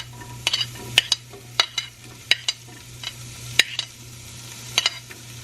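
Onions for a vegan pie go into a hot pan and sizzle softly while a utensil stirs them. Sharp scraping clicks come at irregular intervals over a low steady hum.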